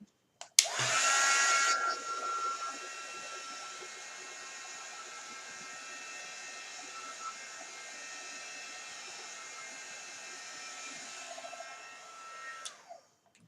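A hair dryer blows on a painted craft project, a loud burst at switch-on that settles into a steady whirring hum for about eleven seconds before cutting off, with no talking.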